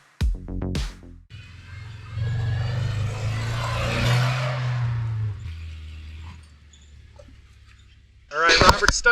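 A 3-cylinder, two-wheel-drive off-road vehicle stuck in sugar sand in Ocala National Forest revs with a low, sustained engine drone that swells and then fades. Voices can be heard briefly at the start and end.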